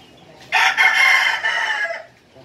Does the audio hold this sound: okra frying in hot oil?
no